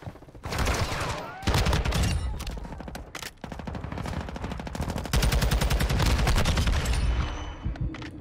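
Gunfire in the video game Modern Warfare 2 during a sniper exchange, a loud continuous fusillade of rapid shots with a few short pauses between bursts.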